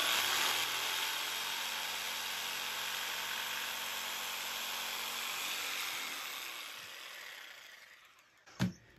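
A jigsaw cuts a notch in clamped wood with a steady, loud buzzing whine that runs for several seconds, then cuts out, followed by a single sharp knock.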